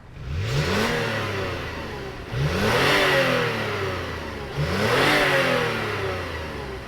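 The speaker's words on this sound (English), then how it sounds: "let's fire up that V6 and hear what it sounds like" The V6 engine of a 2024 Toyota 4Runner TRD Off Road revs hard three times in a row, each throaty surge rising and falling back, close and loud with no talking.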